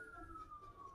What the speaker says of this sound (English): That's a fire truck that's making that noise.